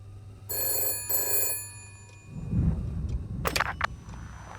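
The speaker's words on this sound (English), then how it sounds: "I have never had a phone ring in the history of playing this game" A telephone rings in an apartment during a video game, two loud electronic ring bursts close together, followed by rumbling game noise and a few sharp clicks.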